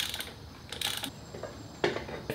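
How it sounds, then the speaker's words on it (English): Metal tool work on the wheel nut of a Yamaha Super Tenere 1200 during a tire change, with ratcheting and clanking mechanical clicks in a few close bursts and no talk. "all I have to really do is bolt that nut over there and tighten this"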